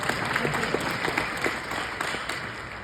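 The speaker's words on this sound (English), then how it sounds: "it's fine, you can clap, I'll allow it." Scattered applause from a conference audience at a political party policy convention in Calgary, a steady patter of clapping hands filling the room at moderate level, with no talking over it.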